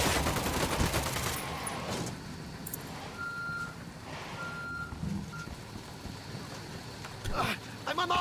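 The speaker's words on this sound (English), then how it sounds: "Opening fire on these fuckers." Gunfire rattles in rapid, dense bursts in the video game Ghost Recon Wildlands, loudest at the start and again near the end. Repeating reversing beeps sound in between, and players talk over the action.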